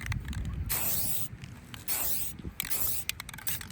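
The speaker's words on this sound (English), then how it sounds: "When I spray, I go in the direction of the leaves." PVC being spray painted, with several bursts of hissing aerosol spray separated by short pauses, close and fairly loud.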